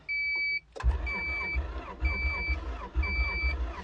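Honda Civic EF hatchback engine cranking repeatedly after a beep, the starter churning in several rhythmic bursts without firing, close and loud, with a fault suggesting low compression.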